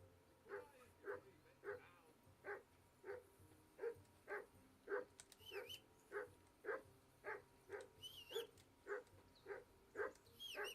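In the video game Kingdom Come Deliverance 2, a dog gives a steady run of short, evenly spaced yips and whimpering barks. The sound is fairly faint, with a brief character voice heard partway through.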